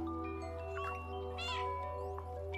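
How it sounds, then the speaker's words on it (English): A cat in the video game Stray gives a single clear meow midway through, close and distinct over steady, sustained background music tones. "What do you guys do when I meow?"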